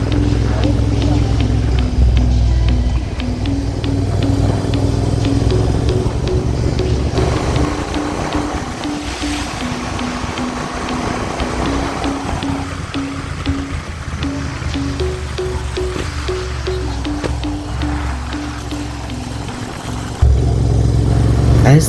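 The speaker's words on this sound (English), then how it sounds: "let the calm note of a GT exhaust accomplish this beautiful ride" A motorcycle with a GT exhaust runs at a calm, steady cruise on a sunset ride home in Goa, giving a low, continuous engine drone with slight pitch shifts under strong wind rush.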